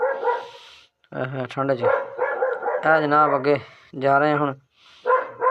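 Village dogs bark intermittently at a distance, unseen, while someone talks over them in the foreground on a morning walk.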